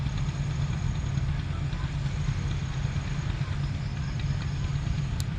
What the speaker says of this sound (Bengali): আর একটা ট্রলার দেখতে পাচ্ছেন পাড়ি দিতেছে, পশুর নদী পাড়ি দিচ্ছে, ওপারে যাবে।